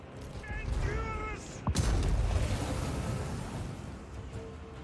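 Artillery in Total War: Warhammer III: a heavy cannon-like blast booms midway through, following brief electronic tones, then a long rumbling decay fills the rest with game noise.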